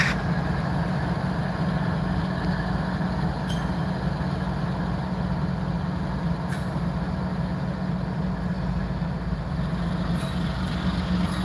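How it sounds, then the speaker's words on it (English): A diesel locomotive idles steadily in an industrial rail yard at night where trains are being made up, with a constant low rumble that holds even throughout and no talk. "Love the sound of an idling diesel."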